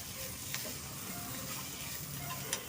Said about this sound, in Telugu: కొబ్బరి కొద్దిగా, అది కూడా ఫ్రై చేయాలి.